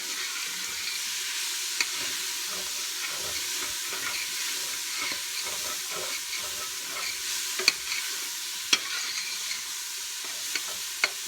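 Onions sautéing in a pot for Zuppa Toscana give off a steady, close sizzle, with soft scrapes and clicks of stirring throughout and no voices.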